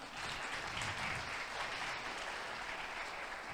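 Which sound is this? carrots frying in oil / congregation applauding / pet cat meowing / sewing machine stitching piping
congregation applauding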